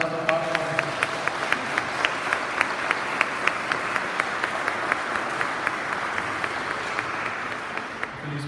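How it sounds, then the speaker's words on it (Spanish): A church congregation at Sunday Mass applauds its priest in a steady, even patter of many hands, moderately quiet and roomy, sustained for several seconds before fading. "un aplauso por nuestro padre."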